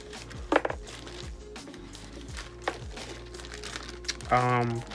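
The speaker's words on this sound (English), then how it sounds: "Plastic bags. I guess if you want to put the shoe in here, you could." Plastic bags from a Dior B23 Oblique sneaker's packaging crinkle and rustle in repeated close handling bursts, with a voice speaking briefly near the end.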